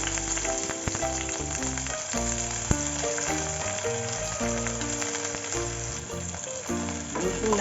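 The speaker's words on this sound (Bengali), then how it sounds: "রসুন আর পেঁয়াজটা একসাথেই একটু ভেজে নেব" Garlic and onion fry in hot oil with a continuous crackling sizzle, close and fairly loud, dotted with sharp pops and spits and the occasional clink of a utensil; no one speaks.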